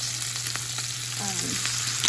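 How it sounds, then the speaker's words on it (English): Bacon sizzling on a hot griddle, a close, steady crackle and spit with a low hum underneath. "it's easier for me to fry the bacon on the griddle than it is in the frying pan"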